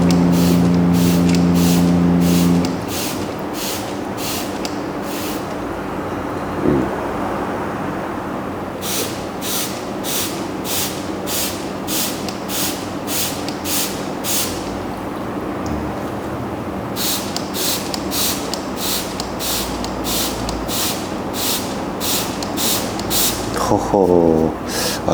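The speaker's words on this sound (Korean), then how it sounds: "제가 스프레이로 다시 한번 보여드리고 마무리 짓도록 할게요." A spray bottle of car coating is pumped over a car's surface in repeated bursts, short hissing spritzes in clusters after a brief low hum at the start.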